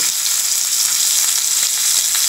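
Fish frying in hot oil on its second side, a loud, dense, continuous sizzle and hiss close by, with faint bubbling crackles and no voices.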